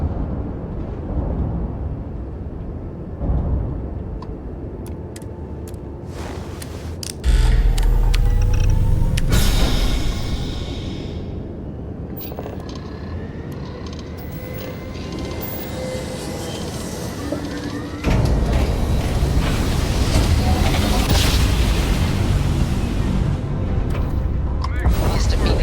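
Spaceship retro thrusters fire in Starfield, heavy rumbling bursts with a sharp surge partway through and another later, sustained roar underneath while voices speak.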